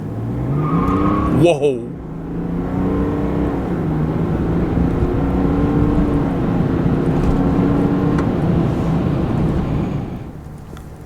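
A 2023 Chevy Silverado with the small Duramax diesel pulls hard from a stop, its engine note climbing steadily through the gears, loud and close from inside the cab, with a brief exclamation early on.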